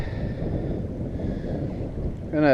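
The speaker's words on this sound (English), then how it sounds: "As you can see, it's really windy." Strong north wind by a lake buffets the microphone in a steady low rumble, and a brief tonal burst enters right at the end.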